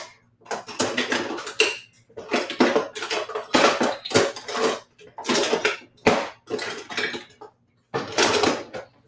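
A small bowl and teaspoon measuring spoons are handled while baking peanut butter blossom cookies, giving a series of close clinks and clatters of metal on dishware in short bursts separated by brief silences.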